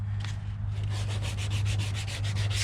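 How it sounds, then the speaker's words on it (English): Sanding strokes rub across the plastic bow of a Hobie Pro Angler fishing kayak before a bumper is fitted: steady, rhythmic back-and-forth scrubbing, close and continuous over a low background hum. "What I'm going to do is I'm going to sand to this line"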